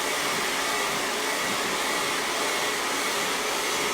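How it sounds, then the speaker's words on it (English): A hair dryer blows hair dry during a scalp care routine for dandruff, a loud, steady, close-up whooshing roar that holds unbroken for the whole stretch with no voices. "So, blow dry it."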